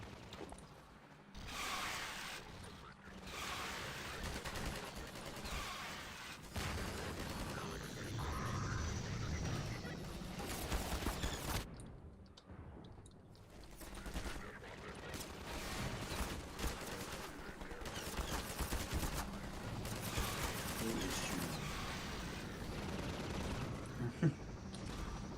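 Rapid SMG bursts fire repeatedly in Half-Life 2, dense rattling volleys broken by brief pauses across a busy, loud game battle.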